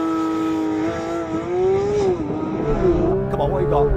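A new Porsche GT3 RS accelerates hard from 0 to 60 mph, its engine note climbing steadily through the revs with a brief shift dip, loud and close, with a voice speaking over it.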